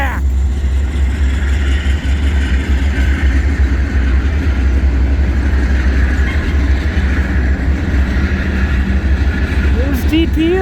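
A CN freight train, symbol S707 with AC44C6M locomotive 3318, rolls past at West Ladysmith in a loud, continuous low rumble with rhythmic wheel clatter that stays steady throughout, a brief higher squeal near the end.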